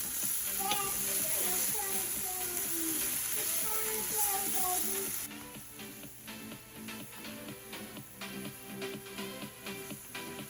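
Garlic and onions frying in a pan with vegetables, a close, steady sizzle with intermittent stirring scrapes, the sizzle dropping to a softer crackle partway through.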